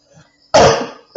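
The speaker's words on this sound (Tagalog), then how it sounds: "May ubo pa kasi ako." A person with a lingering cough gives one harsh, close cough after a quiet pause, then starts a second one.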